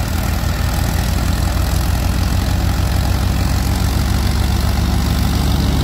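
Arjun 555 tractor engine driving a loaded grain thresher, a loud continuous low diesel thrum with a steady rapid pulsing beat, close and unchanging, with no voices.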